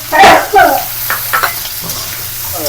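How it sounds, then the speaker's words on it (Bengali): Fish fries with onion and garlic in a pan: a short, close burst of sizzling and stirring scrapes, loud at first, then settling into a softer, steady frying hiss. "মাছগুলো আমি এর সঙ্গে ভেজে নেবো পেঁয়াজ আর রসুনের সঙ্গে"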